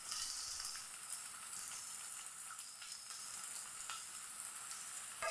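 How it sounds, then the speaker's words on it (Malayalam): Chopped onions and green chilli sauté in hot oil in a pan for a papadam samosa filling, a steady close sizzling hiss with small crackles and occasional stirring scrapes, no talking. "നല്ല പോലെ ഒന്ന് വഴറ്റിയെടുക്കാം"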